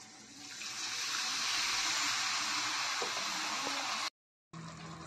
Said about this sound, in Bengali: একটুখানি নাড়িয়ে জল অ্যাড করে দেবো